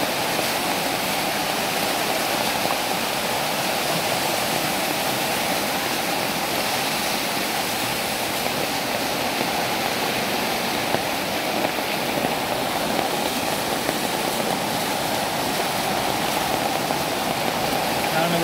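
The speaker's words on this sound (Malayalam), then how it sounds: "ഒരു ആറൊഴുകുന്ന പോലെയാണ് ഈ റോഡ് കൂടെ വെള്ളം ഒഴുകിക്കൊണ്ടിരിക്കുന്നത്" Floodwater pours along a road in Kerala after a landslide, a loud, continuous rush like a river that holds steady throughout with no break.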